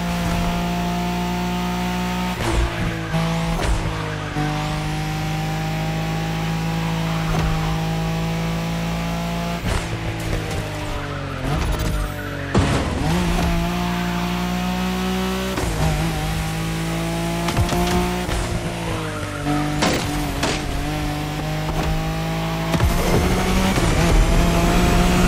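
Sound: Nissan Skyline racing car engine in The Crew Motorfest video game

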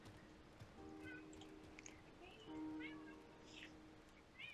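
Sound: cat meowing, pet cat Sasa

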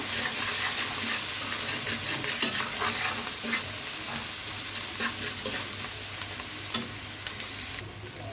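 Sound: spices being stir-fried in pan

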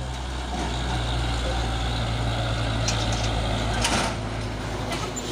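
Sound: box truck engine

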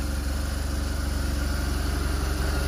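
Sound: brake servo activating on a motorcycle

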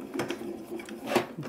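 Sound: die cutting machine running a Sue Wilson craft die through

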